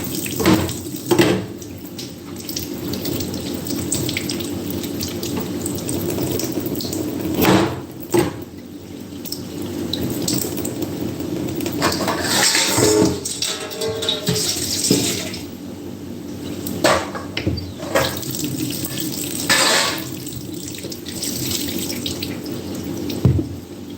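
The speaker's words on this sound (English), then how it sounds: "Let's wash out the carrots." Carrots rinsed under a running kitchen tap, a steady close rush of water into the sink with brief splashy surges as the vegetables pass through the stream.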